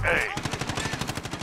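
Rapid automatic gunfire rattles off in a steady, close burst during a Domination match on the Rust map in Modern Warfare, following a brief tonal game cue.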